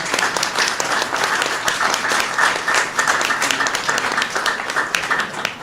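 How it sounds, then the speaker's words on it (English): Sustained applause from an audience at an Asian American and Pacific Islander Heritage Month reception, dense steady clapping filling the room for several seconds with no talk over it. "give yourselves a round of applause for building a stronger and more prosperous America"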